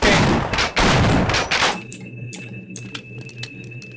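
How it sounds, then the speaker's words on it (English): Automated turrets in Half-Life: Blue Shift let loose loud, rapid bursts of gunfire for under two seconds, then fall to scattered sharp clicks and ringing metallic hits over a faint electronic tone. "Oh, those are turrets."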